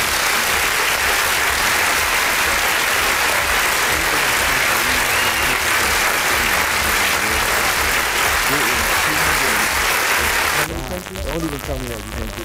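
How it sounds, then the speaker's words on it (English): Loud, dense applause from a crowd fills most of the clip, then cuts off abruptly as talking takes over. "you need to give yourselves a round of applause"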